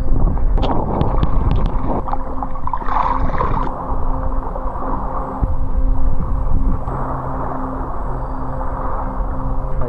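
Loud, steady engine drone and hull rumble of a ferry boat underway, with wind buffeting and a few clanking knocks early on.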